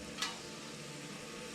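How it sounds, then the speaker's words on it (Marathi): Onions fry with salt in a pan, giving a soft, steady sizzle with one small tick of a stir near the start, faint and alone. "थोडंसं टाकलं कांदा भाजता बघा"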